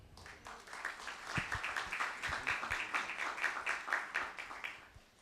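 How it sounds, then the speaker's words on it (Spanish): Audience at a city-planning panel applauding a newly introduced panelist, moderate steady clapping from a modest crowd, fairly soft and close, with a few sharper individual claps standing out. "Me refiero a Gretel Castellanos, para quien pido un fuerte aplauso."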